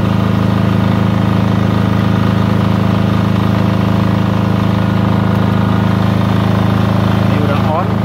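A generator set powering a welding machine runs steadily at full throttle, a loud, constant engine drone with a strong low hum and no breaks.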